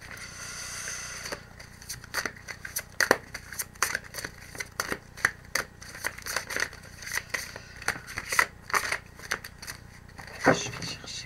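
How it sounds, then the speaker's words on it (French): Tarot cards being drawn and shuffled, a quick series of crisp flicks, snaps and papery scrapes at close range, irregular but frequent, with soft speech at times. "Je tire mes cartes."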